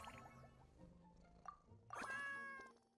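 A cat meows in the Genshin Impact video game, a few short mews followed by a louder drawn-out meow near the end, set against soft game background sounds.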